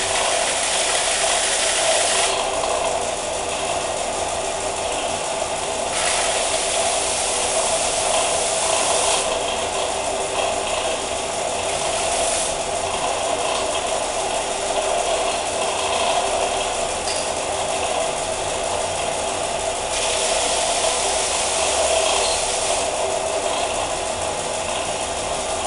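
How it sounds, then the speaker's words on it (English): A belt sander grinding an arrow feather, a loud continuous whirring hum with a rough abrasive hiss that rises and falls as the feather is pressed on, with no talking. "just take it over to the belt sander here. Hold it level. And just start grinding."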